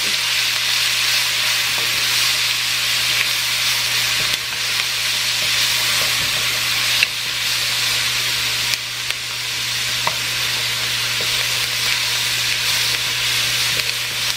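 Minced garlic sautéing in a pan, a loud, steady, close sizzle and hiss of frying that continues unbroken with only faint occasional stirring.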